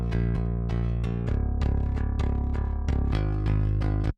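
Unprocessed DI bass from a Submission Audio punk bass instrument, played dry with all plugins bypassed: steady, continuous picked notes with sharp regular attacks and a strong low end, alone with no talk.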